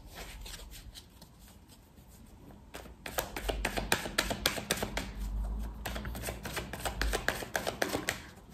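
A deck of tarot cards being shuffled by hand, a run of crisp riffling flutters with a quiet stretch, then louder, denser bursts of card slaps and riffles close up; no talking.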